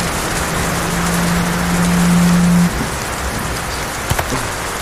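Steady drizzling rain patters across surfaces in a night film scene, a dense even hiss with a faint low drone underneath and no voices.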